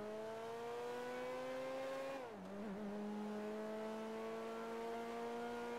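A car engine in GTA V holds a steady drone that dips and wavers briefly before settling back to an even hum, faint and alone.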